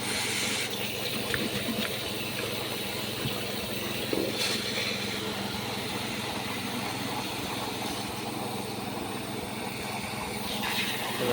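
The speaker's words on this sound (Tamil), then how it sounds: "தண்ணியை பிடிப்போம்." Water gushes steadily from pipes at a farm well, a loud continuous rushing flow that is broadband and unbroken, with a few faint knocks and no talk.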